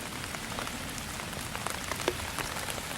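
Rain falls steadily on a garden of yellow crookneck squash, a soft, even hiss dotted with small irregular drop taps, quiet and close with no voices.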